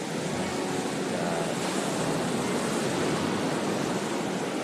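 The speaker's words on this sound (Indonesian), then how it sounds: "Memang terkenal kan ombaknya yang cukup besar ya." Large ocean waves break steadily on a south coast beach, a loud, continuous roar of surf with no pauses and no voices.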